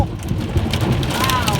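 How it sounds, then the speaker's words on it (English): Hail and heavy rain pelt down during a summer thunderstorm, a dense, loud, continuous patter close by, with a faint voice briefly audible beneath it. "still hailing"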